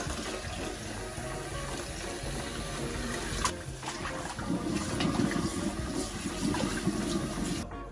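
Water from a tap pours steadily into a cooking pot for stuffed cabbage, a continuous rushing splash for several seconds that deepens partway through as the pot fills.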